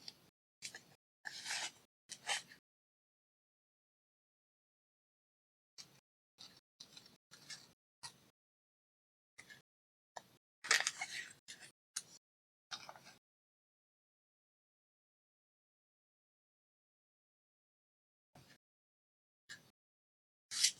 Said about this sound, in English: I'm not going to use fish, so I'm just going to cut right through it.